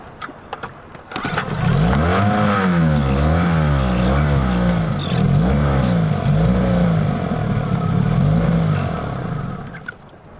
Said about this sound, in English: With my outboard, it works at really high revs, but there's obviously some sort of fuel problem.